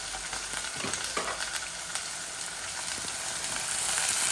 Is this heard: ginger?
yes